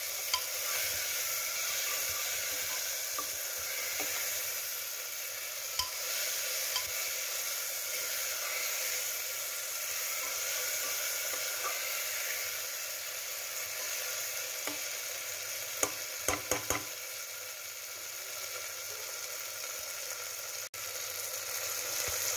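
Onions, tomatoes and spices sizzle steadily in a pan for a Nepali local chicken curry, a continuous close frying hiss with a few brief stirring clatters and no talk.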